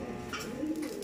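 Domestic pigeons coo at a loft under construction, a soft low warbling that continues steadily through the moment at moderate distance, with no talking over it.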